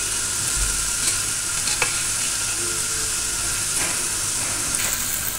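Fennel seeds and spices fry in a hot pan for an aloo baingan curry, with a loud, continuous sizzle broken by occasional scrapes and stirring clatter, close up and without speech.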